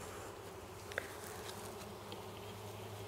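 Honeybees buzzing at a hive entrance during a varroa mite treatment with formic acid evaporator, a steady faint hum with a few brief individual bee passes, no talking.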